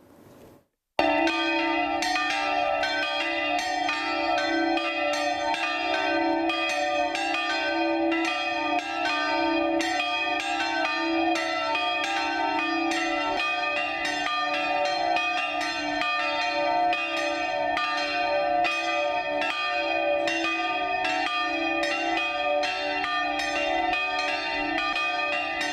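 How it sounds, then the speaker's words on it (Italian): Church bells ring out festively from a parish near a house in the early morning, a dense, continuous peal of overlapping strikes sustained at steady volume for over twenty seconds. "Stamattina alle 7 le campane a festa proprio dietro a casa Trentini"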